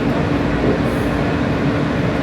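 A New York subway train rides along with a dense, continuous rumble and rattle from inside the car, steady and loud with no speech.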